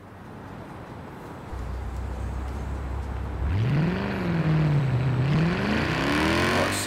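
Stock car engine revving in the racing game Forza Horizon 4, Edinburgh Station Circuit: a low idle hum that rises into a loud, sweeping rev, dipping and then climbing again, heard alone.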